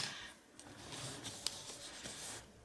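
Soft chalk pastel drags across paper in light, uneven scratchy strokes with small taps, close and quiet, blending orange into blue with no talking.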